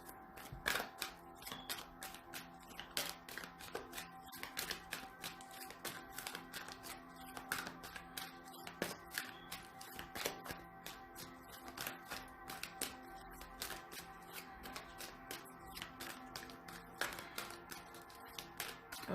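Tarot cards being shuffled, a long stream of quick crisp taps and riffles in an irregular rhythm, close and fairly quiet, with no talking.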